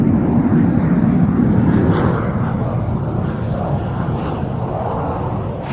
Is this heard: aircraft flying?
yes